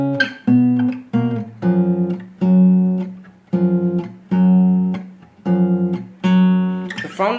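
Up-close acoustic guitar playing part of a song. Short plucked phrases come in rhythmic groups, separated by brief pauses, loud and clear with no voice.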